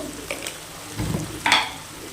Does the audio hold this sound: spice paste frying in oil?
yes